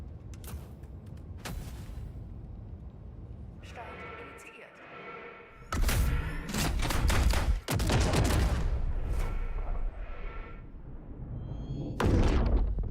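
Walking barrage strikes in the Helldivers 2 video game land as a run of heavy, close explosive booms and crackling blasts in several bursts, with a person talking between and over them.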